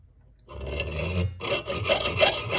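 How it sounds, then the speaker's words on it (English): A hacksaw cuts a set screw off along its thread while fabricating fuse box set screws for a Talbot Lago, giving a few close, rasping back-and-forth strokes after a brief quiet start. "Know the exact thread to lay the hacksaw in to cut it off with."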